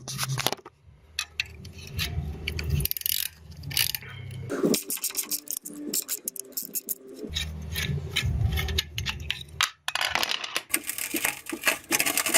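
Removing the nut from a toilet bolt during bathroom demolition brings close metallic clinking and scraping in uneven bursts, with rough grinding and pauses in between.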